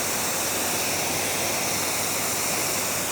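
An Active 3.0 pressure washer sprays water in a loud, unbroken hiss and rush, a dense steady blast with no pauses and no voices.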